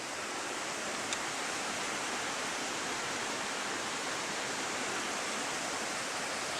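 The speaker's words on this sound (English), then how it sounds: "here is the creek here. You want to check this out? Got a couple waterfalls" A forest creek with a couple of small waterfalls rushes in a steady, loud, unbroken roar of flowing water, with no voices over it.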